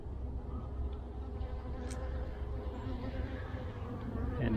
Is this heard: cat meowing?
no